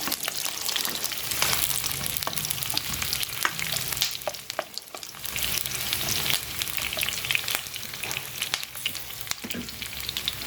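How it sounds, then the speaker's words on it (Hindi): Onions frying lightly in a pan while a seekh kabab dish is prepared, giving a steady close sizzle with occasional stirring scrapes and crackles throughout, no talk. "ये मैं प्याज को हल्का सा फ्राई करके ज़रा सा तो इसको निकाल के जग में डाल दूँगी"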